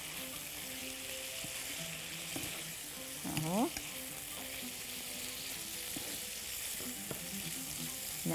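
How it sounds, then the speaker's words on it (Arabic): Vegetables saute in hot oil in a pan, giving a steady close sizzle and hiss with occasional stirring scrapes; a voice speaks briefly. "هحط بقى هنا الزيت عشان اشوح"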